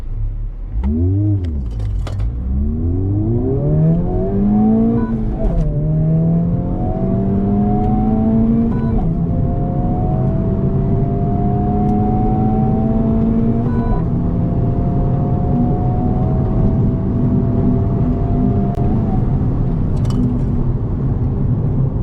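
A Honda Civic Type R FL5 carrying three people accelerates hard through several gears, engine pitch climbing and dropping at each shift before a long sustained pull, heard loudly from inside the cabin.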